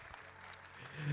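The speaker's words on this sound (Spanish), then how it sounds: "Ese aplauso como que fue un aplauso para irse." Applause from a church congregation at an evangelistic service, a brief, fairly quiet wash of clapping with a voice starting up underneath toward the end.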